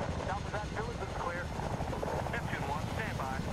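Helicopter rotor thumping steadily overhead in the Medal of Honor video game, a constant low chop under a man's speech heard throughout.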